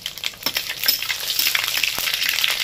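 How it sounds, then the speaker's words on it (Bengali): Dried red chillies, two bay leaves and panch phoron frying in hot oil, a steady close crackling sizzle with scattered sharp pops and a faint stirring scrape running throughout. "এবার এটাকে না ভালো করে ভেজে নিতে হবে।"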